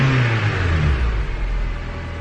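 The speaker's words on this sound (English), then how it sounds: "let's give it another rev and see how good it sounds" Rev from a Honda Civic engine breathing through a K&N short ram air intake: a quick climb in pitch then a sustained, close, loud drone easing off slightly at the end, alone without speech.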